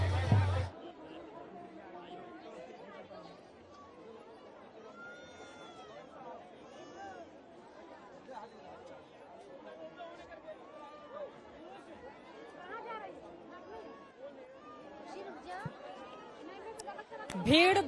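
A large crowd chatters and murmurs at Chhath Puja in Patna, a dense outdoor babble of many voices at moderate distance with occasional louder calls and brief sharp noises at the start and end.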